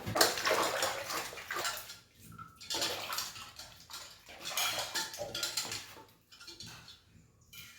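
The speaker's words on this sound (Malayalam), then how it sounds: "നെല്ലിക്ക ഒന്ന് കഴുകാം" Gooseberries are rinsed by hand in water while a chutney is being made in a home kitchen, giving bursts of splashing and sloshing with brief pauses between them, close and fairly clear, with no talking.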